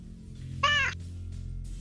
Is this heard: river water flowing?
no